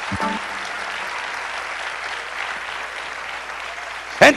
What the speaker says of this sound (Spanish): Aplaudo el nombre de Jesús